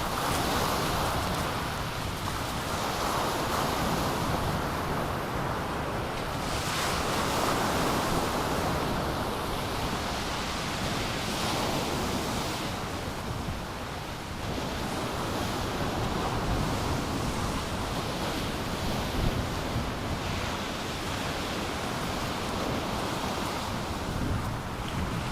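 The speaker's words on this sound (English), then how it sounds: "it's a bit windy today. Hopefully it's not too bad on the microphone" Wind blasts across the microphone on a breezy seashore while sea angling, a dense continuous rushing roar mixed with the wash of surf, loud and steady with no talking.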